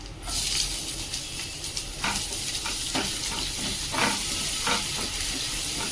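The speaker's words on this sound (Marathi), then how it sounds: "कांदा चांगला परतून घ्यायचा आहे" Chopped onion with garlic and a pinch of asafoetida frying in a pan, a steady close sizzle with a few brief stirring scrapes and no talk.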